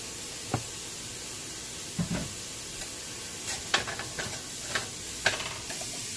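Cauliflower frying in a pan toward golden brown gives a steady broad sizzle, with a few sharp scrapes and taps of a utensil against the pan scattered through, close and fairly quiet with no talking.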